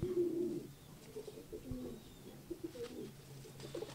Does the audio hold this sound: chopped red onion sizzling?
no